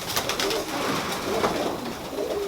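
Tippler pigeons coo steadily against a dense, noisy outdoor backdrop with constant broadband hiss, the low cooing sitting close but partly masked.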